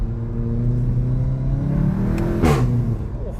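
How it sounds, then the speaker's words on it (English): A 2016 VW Golf GTI Clubsport engine roars steadily with harmonic exhaust tones, building in pitch and swelling into a sharp rev near the end, loud and close. "yo, this car sounds insane."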